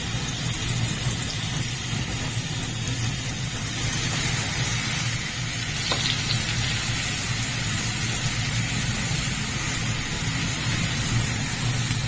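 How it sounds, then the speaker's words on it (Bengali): Ground onion paste goes into hot oil left from frying bhetki fish for a tawa fry, giving a steady, even sizzling hiss that runs unbroken from start to end with no voices. "এবারে মাছ ভাজা তেলের মধ্যে আমি বাটা পেঁয়াজটা দিয়ে দেবো"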